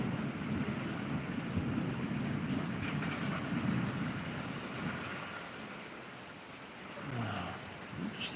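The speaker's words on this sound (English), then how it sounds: "Just enjoying a little lightning storm." Steady rain falls during a lightning storm, a broad hiss of drops on surfaces with a low rumble of thunder rolling underneath, easing slightly before a brief swell near the end.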